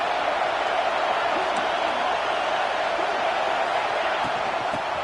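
A football stadium crowd roars as a steady, dense wash of noise that holds at the same loud level without a break, with faint scattered shouts rising inside it.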